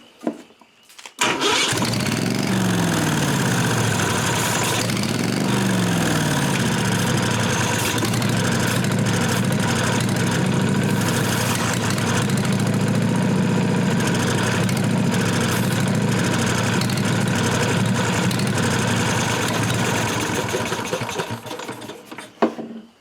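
A Briggs & Stratton Vanguard 16HP gasoline engine with fuel pump trouble runs steadily and loudly for the whole stretch, with a rough idle and a slight wavering pitch near the start, then cuts off at the end.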